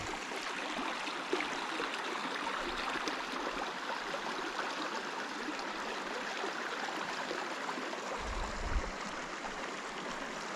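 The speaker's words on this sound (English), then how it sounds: "you can see the waterfall at the far side." Steady rushing water from a waterfall fills the scene, a constant broad roar, with a few low thumps partway through.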